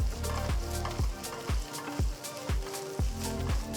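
Golden onions fry in a pan with ginger garlic paste and chopped green chilli, a steady sizzle with regular stirring scrapes about every half second, close and continuous, no voices.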